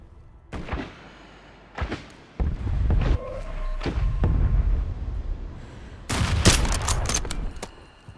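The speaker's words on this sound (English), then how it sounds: "Taking fire!" Bursts of automatic gunfire crackle in Call of Duty Warzone Resurgence, a few short volleys early on, then a dense, loud rattle of rapid shots near the end, with thuds and a background hum in between.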